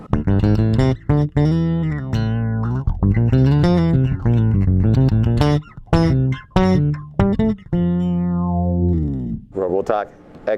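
Electric bass run through an Xotic X-Blender effects loop with Robotalk and octave effects, giving a continuous, loud, heavily processed synth-like tone with shifting pitched notes and brief gaps, played alone without talk.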